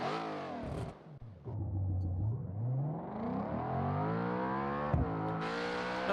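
A GTE race car engine in a racing game mod revs hard. The loud, sustained whine climbs steadily in pitch, with a brief cut near the start and a quick gear-change dip near the end.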